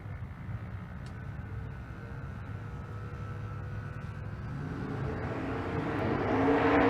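Drag race cars, a twin-turbo LS and a naturally aspirated big-block Chevrolet, rumble at a distance at Bandimere, the engine noise low at first and then swelling steadily louder toward the end.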